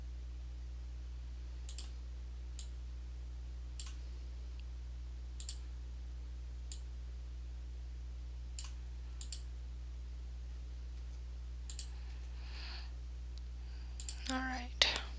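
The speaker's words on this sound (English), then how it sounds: "So I'm just clicking on all these lines, moving the ones over that are shared, and deleting the extras." Sparse computer mouse clicks sound at irregular intervals against a steady low hum, quiet and close, with a slightly busier flurry near the end.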